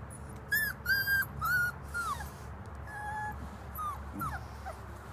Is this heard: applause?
no